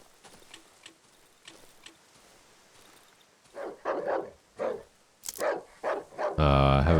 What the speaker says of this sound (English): We've got some dogs barking in the distance